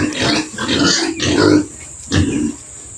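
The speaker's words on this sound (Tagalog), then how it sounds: "Tingnan natin yung ating baboy." Muddy, unwashed pigs on a small farm grunt loudly and continuously at close range, in several bursts with short pauses between them.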